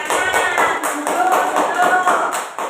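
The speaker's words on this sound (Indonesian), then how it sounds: "Ya, tepuk tangan." Short burst of applause in a classroom, a small group of students clapping in a quick, fairly even rhythm, close and lively, with faint voices underneath.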